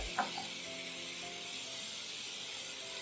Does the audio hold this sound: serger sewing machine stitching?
no